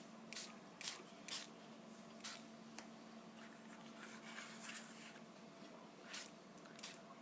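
Isopropyl alcohol spritzed from a spray bottle onto a white paper page, several short sharp hissing puffs spaced irregularly, close but quiet with no talking.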